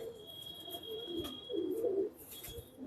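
Pigeons kept for sale, including a female with reddish eyes, coo softly in a few rounded, throaty bursts, faint and close against a quiet room.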